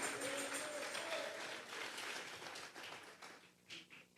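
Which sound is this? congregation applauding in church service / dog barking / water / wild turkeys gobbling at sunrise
congregation applauding in church service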